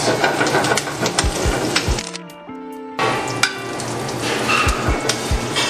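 Duck breast frying skin side down in its own rendering fat, a steady close sizzle with scattered crackles and a few sharp knocks, briefly dropping out before the spitting resumes.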